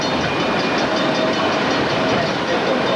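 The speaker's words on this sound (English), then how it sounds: "Here we're riding on choo-choo train." A 1995 tourist train in Gatlinburg, Tennessee, rumbles steadily along the tracks, a loud continuous ride noise with faint rhythmic clatter from inside the car.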